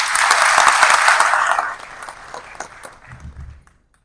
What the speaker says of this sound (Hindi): एक बार आप सबसे अनुरोध है कि सर का स्वागत एक बार जोरदार तालियों के साथ।